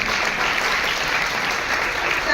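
Audience applauding at an appointment letter ceremony for special educators, a sustained, even roar of many hands clapping throughout.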